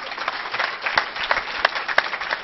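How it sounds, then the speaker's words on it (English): An audience applauds after a security talk, with steady mid-level clapping throughout and a few sharper individual claps standing out, no voices on top. "I think it's time for a round of applause."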